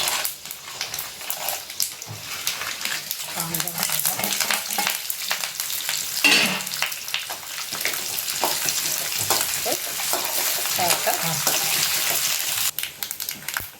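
Chana dal and peanuts frying in oil with mustard seeds in a pan, with a continuous close sizzle and frequent crackling pops and clinks of stirring over about fourteen seconds, and no voices.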